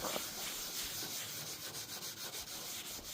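Quiet, rhythmic scraping of sandpaper rubbing back and forth over a rusty car roof, steady strokes repeating close by with no talking.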